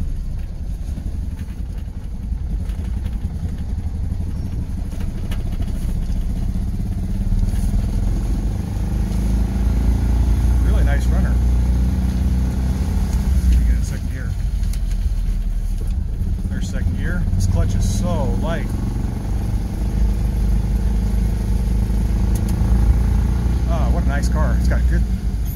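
Small BMW Isetta bubble car engine running steadily while driving after a long period unused, a low continuous rumble with occasional clatter and squeaks, someone speaking intermittently over it.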